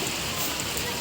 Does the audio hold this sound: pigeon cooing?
no